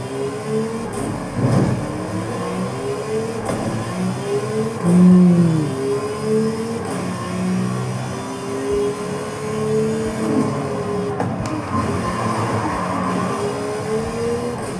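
A BMW X5 engine in a racing video game revving and shifting through gears, with repeated rising and falling pitch sweeps, loud and steady over about fifteen seconds, no talking.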